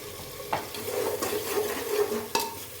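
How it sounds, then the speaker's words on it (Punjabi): Tomatoes frying in a pan with steady low sizzling while a utensil stirs them, with a couple of sharp knocks of the spoon against the pan, close and without talk. "ਇਸ ਨੂੰ ਵੀ ਆਪਾਂ ਚੰਗੀ ਤਰ੍ਹਾਂ ਹਿਲਾ ਦੇਵਾਂਗੇ ਤਾਂ ਜੋ ਸਾਡੇ ਟਮਾਟਰ ਹੋਰ ਵੀ ਜਲਦੀ ਉੱਜ ਜਾਣ"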